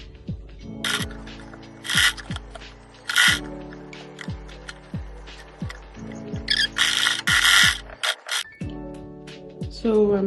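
A sewing machine stitches around a sweatpants waistband in repeated bursts of rapid mechanical whirring, each run stopping and restarting, with sharp scratchy rustles of fabric between runs, close and fairly loud.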